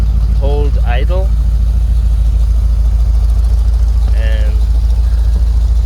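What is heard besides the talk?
1979 Chevrolet Corvette C3 engine idling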